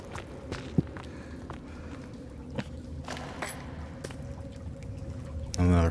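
Footsteps slosh through water in the survival game Sons of the Forest, an irregular series of soft splashing steps with a sharp click partway through and a louder burst at the end.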